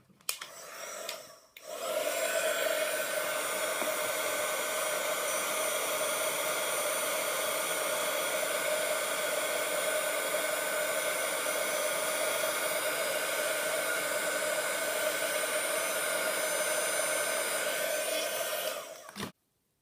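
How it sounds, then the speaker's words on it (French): A heat gun blows a steady, loud whirring hiss for nearly twenty seconds, melting embossing powder on a stamped surface, with a brief break near the start before the continuous airflow runs to the end. "on va utiliser le pistolet chauffant"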